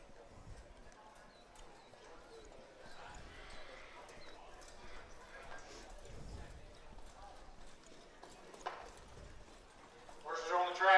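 Harness racing trotters move on a county fair track, their hoofbeats a faint, rhythmic clip-clop under distant crowd murmur and talk, swelling into louder sounds near the end.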